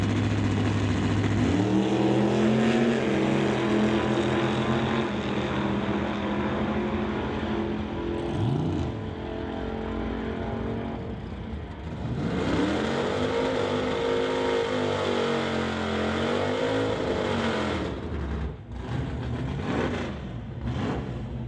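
Race vehicles tear down a drag strip at a Smoke, Fire and Thunder meet, engines rising and falling in pitch as two runs pass, loud and continuous with no voices.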